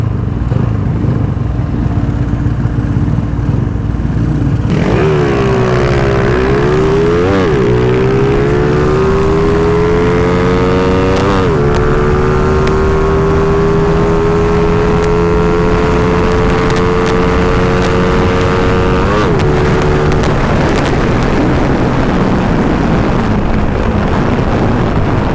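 A Toyota Supra passes close by, its engine rising in pitch as it approaches and holding a loud, steady drone through several gear changes, with heavy wind buffeting the microphone throughout.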